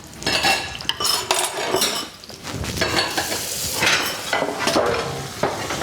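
Plates, pots and cutlery clink and rattle close by during dishwashing, a busy run of sharp metallic chinks and ceramic knocks with splashy washing noise between them.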